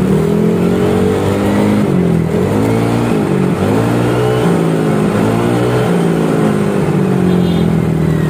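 A Yamaha Aerox 155 scooter with a stainless 28-38 header exhaust revs loudly and steadily up close, its engine pitch rising and falling in repeated surges held near 7000 RPM.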